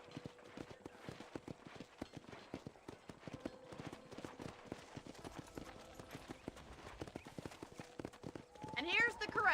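Horse hooves clip-clop at a steady walking rhythm in the Red Dead Redemption video game, a repeated hollow clopping under faint speech, with a brief neigh rising near the end.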